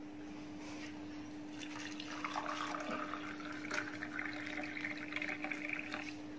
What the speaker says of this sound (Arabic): هننزل عليه بالماء المغليه كده